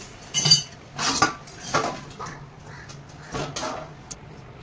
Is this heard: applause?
no